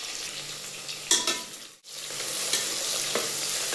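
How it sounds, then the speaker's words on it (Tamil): Onions sautéing in a pan for vegetable pulao, with mint and coriander added, a loud steady sizzle broken by a brief drop and a few stirring scrapes, no voices. "வெங்காயம் சேர்த்து கொஞ்சம் வதக்க விட்டுட்டு இப்போ புதினா,"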